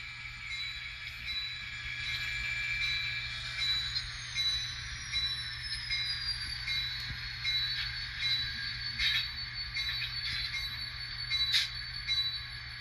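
N scale model train cars roll along the track, a faint, steady rumble with thin high-pitched squeals and small clicks, quiet throughout with no talking.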